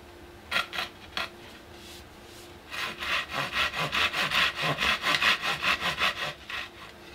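A handsaw cuts through a wooden dowel being made into a tent pole: a few separate strokes, then a brisk, rhythmic run of rasping back-and-forth strokes, close and alone.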